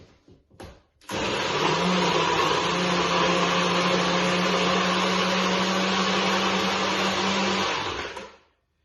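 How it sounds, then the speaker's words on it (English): A blender making a fruit smoothie whirs loudly and steadily for several seconds after a few clicks, its motor droning evenly before winding down. "let's pop on the blender. It's gonna get loud, guys."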